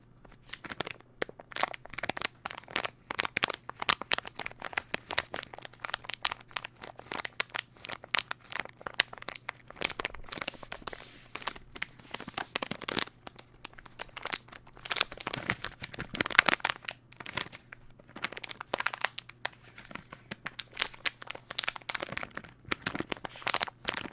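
A plastic bag that held custom keyboard switches is crinkled and crushed up close, producing dense, irregular crackling that continues for the whole stretch with no talking.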